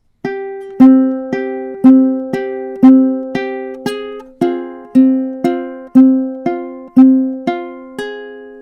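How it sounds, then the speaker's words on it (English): A high G ukulele plucked in a clear, ringing melody, about a dozen evenly spaced notes, each sounding close and loud before decaying, with no voices. "Now you'll notice I'm playing on a high G ukulele"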